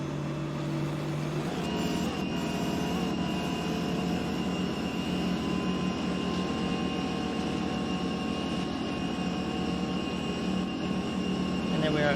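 A custom engine sound in American Truck Simulator with a Knight Rider Super Pursuit effect, a steady loud tonal whine and rumble holding a sustained pitch for the whole stretch, alone without talk.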